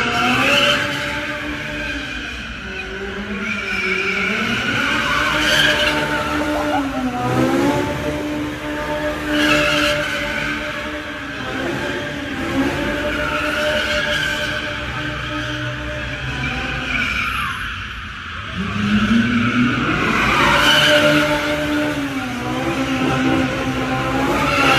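Car drifting, with sustained tire squeal and engine revving rising and falling in waves over nearly 25 seconds, loud and continuous.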